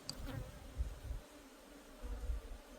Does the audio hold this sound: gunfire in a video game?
no